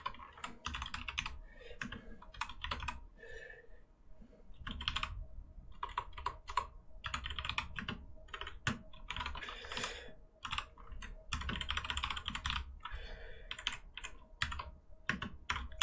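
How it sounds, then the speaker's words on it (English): Python code being typed on a computer keyboard, with steady bursts of close, crisp key clicks and short pauses between runs of typing, no voices. "I know I just typed this stuff"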